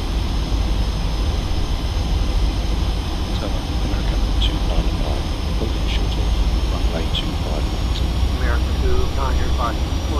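Boeing airliner on final approach and landing at Los Angeles airport in thick fog, a steady loud jet engine roar and broadband rumble filling the whole span, with faint cockpit voices underneath.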